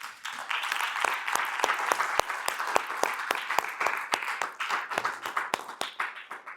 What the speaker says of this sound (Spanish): Yo quiero que tú mismo te des un aplauso por estar aquí.